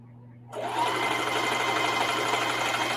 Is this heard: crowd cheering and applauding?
no